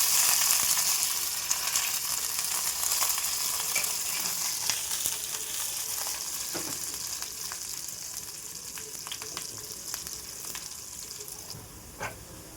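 A tempering of mustard seeds, onion and curry leaves for drumstick sambar fries in hot oil, giving a steady hissing sizzle with scattered sharp crackles and pops, fading slightly over time.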